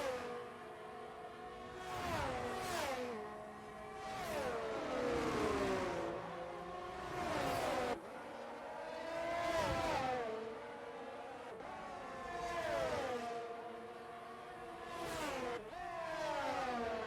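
Race car engines in a racing video game rev and whine through repeated gear-change sweeps, rising and falling in pitch as cars accelerate past, steady and moderately loud.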